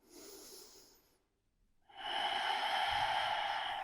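Slow breathing during a yoga backbend pose, one soft exhale fading into a pause and then a louder, airy, sustained breath close to the mic.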